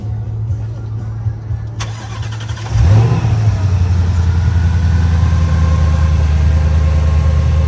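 At a car show in Erie, Pennsylvania, a car engine starts up and settles into a loud, steady run with a persistent high-pitched whine above the engine drone.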